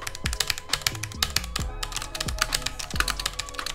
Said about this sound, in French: ce que j'aime bien sur le clavier, c'est vraiment le bruit